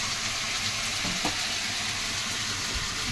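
Water spinach frying in a pan with onion, garlic and dried and green chillies, giving a steady, even sizzle that hisses on without a break, close by and moderately loud, with no voices.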